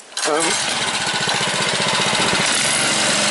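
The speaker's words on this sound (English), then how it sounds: "one thing I have noticed with this mower is it does engage the blades" A lawn mower's blades engage with a sudden surge, the engine note jumping into a loud, rough, sustained roar with rapid pulsing, close by, as someone talks over it.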